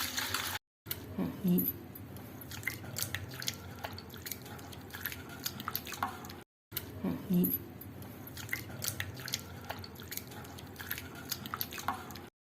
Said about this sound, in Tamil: அவலை தண்ணியை ஊற்றி 2 வாட்டி நல்லா கழுவிக்கணும்.